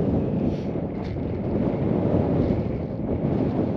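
Wind blowing steadily across the microphone on the Knocknarea hill trail in Ireland, a loud continuous low rumble and buffeting with no pauses and no voices.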